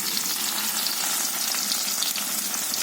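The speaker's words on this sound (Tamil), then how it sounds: "இப்போது வெங்காயம் போட்டுக்கிறோம்" Onion, chillies and curry leaves fry in hot oil for sambar, giving a steady, dense sizzle that stays loud and even throughout with faint stirring beneath and no voices.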